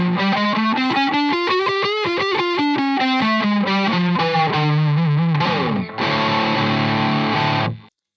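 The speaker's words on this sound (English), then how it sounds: "neck pickup on distortion." An Antiquity Legends EX BLK1 electric guitar played through its neck pickup with heavy distortion, chords and single notes ringing loud and sustained, the tuning drifting slightly, with a brief pause before a final dense strummed chord rings out.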